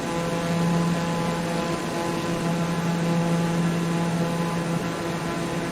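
Engine of a TBM930 turboprop plane in Microsoft Flight Simulator 2020, a constant loud, close propeller drone with a steady tonal hum, alone with no talk, unchanging throughout.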